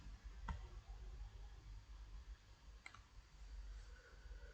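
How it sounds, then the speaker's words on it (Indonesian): Two sharp computer mouse clicks, one near the start and one near the middle, sound faint and close over a low, steady room hum. "Kalau sudah, klik add."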